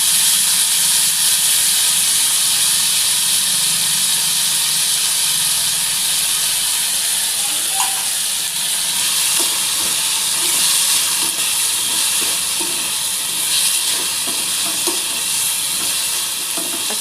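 Cauliflower pieces fry in hot oil in a pan and get stirred, giving a continuous loud sizzle and hiss with occasional scraping clicks of the spoon, no talking.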